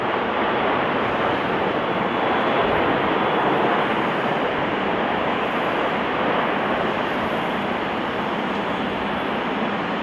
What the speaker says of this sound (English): This Airbus A340 landing too fast due to a flaps issue, forcing it to land without flaps.